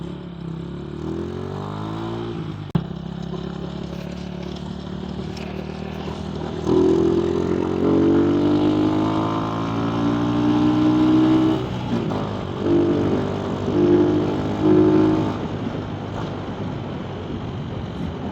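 A Typhoon 150 motorcycle engine revs steadily in first gear, its harmonic drone rising and falling close by with wind buffeting the microphone and no speech.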